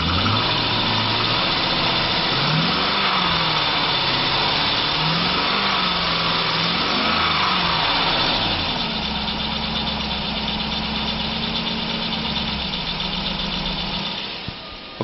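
A 2005 Chevrolet Silverado 1500 with the 5.3 liter V8 and automatic transmission runs close by, revving and rising in pitch several times before settling to a steady idle, with no talk.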